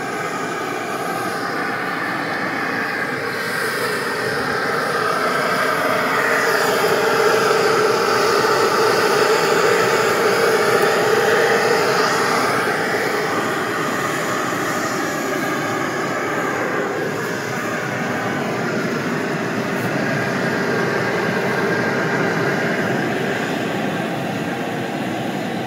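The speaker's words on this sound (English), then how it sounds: "Turn off the big blower and see if that stabilizes things." A big centrifugal blower and several box fans run outdoors, a steady loud broadband rush with a droning tone that swells slightly in the middle and holds throughout, with no talking.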